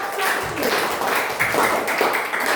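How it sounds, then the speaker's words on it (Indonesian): Classroom applause for a student group after their presentation, a dense patter of clapping hands from many people, steady and fairly close throughout with some murmuring voices underneath. "tepuk tangan buat kelompok 1"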